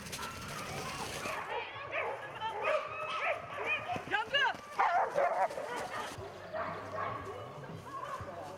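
Dogs bark and yip amid the bustle of a canicross race, several sharp barks and whimpers scattered over continuous chatter from competitors and onlookers.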